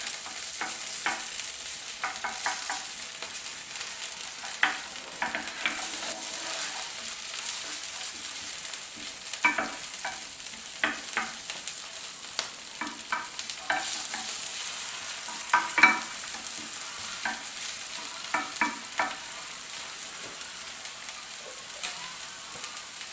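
Garlic frying with pre-fried onion in a pan for an oven-baked tilapia dish, giving a steady soft sizzle with scattered stirring scrapes and clicks throughout, close and moderately quiet, with no talking.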